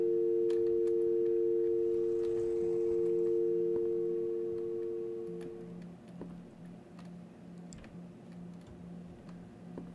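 A steady telephone dial tone in the video game Home Invasion Simulator hums alone for about five seconds, then cuts out, leaving a faint regular ticking in a quiet room.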